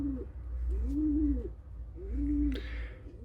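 Young racing pigeons coo nearby in a steady, repeated run of low, rolling calls, three coos in a row, with a brief higher flutter near the end.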